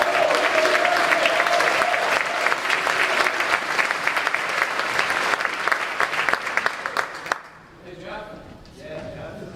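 An audience at a high school baccalaureate scholarship ceremony claps in a dense, sustained burst that cuts off sharply, leaving a quieter room with faint murmurs and an announcer's voice.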